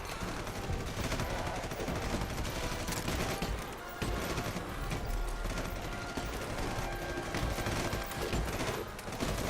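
Minigun fire in the Red Solstice 2 strategy game, a dense, continuous roar of rapid shots mixed with other battle noise, loud and unbroken throughout.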